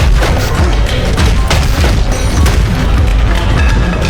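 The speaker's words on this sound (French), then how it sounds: "La seconde suivante, plusieurs fortes explosions retentirent." Several loud explosions in a film scene form a dense, continuous roar of booming blasts and crashing debris with no quiet between them, filling the whole stretch at full volume.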